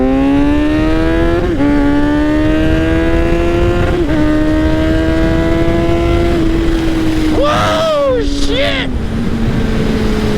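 Kawasaki Z900 motorcycle exhaust revving hard, its steady engine note climbing through repeated rising sweeps before a sharp Doppler drop as the bike passes close by, loud throughout.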